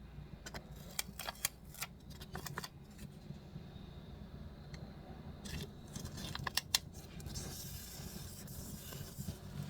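Scissors snip printed stickers in a quiet room at a craft table, giving faint, sparse clicks and short cutting snips spread irregularly, with no voices.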